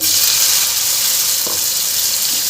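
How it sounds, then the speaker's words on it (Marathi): Red chilli thecha fries in plenty of oil with garlic, giving a loud, close, unbroken hiss of sizzling with one brief stir knock; no speech. "हे 1 मिनिट आपण लसूण परतले की त्यामध्ये आपल्याला हे ठेचा घालायचं आहे।"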